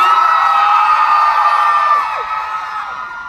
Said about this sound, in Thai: ขอเสียงกรี๊ดหน่อยได้ไหมครับ